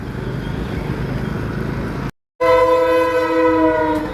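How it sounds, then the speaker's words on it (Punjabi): A loud train rumbles close by, then after a brief cut a sustained horn blares over the rolling wheels. "ਵਾਹ ਵੀ ਵਾਹ ਟ੍ਰੇਨ ਲੰਘੀ"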